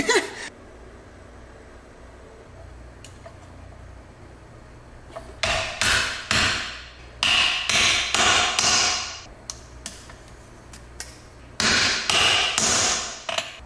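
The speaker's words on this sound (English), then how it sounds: "Just drop the clip in there, close it, and then just hammer it on" Sharp metallic hammer blows ring out in irregular clusters after a quiet start as a clip is hammered into place on a rebuilt engine, each strike followed by a short decaying clang.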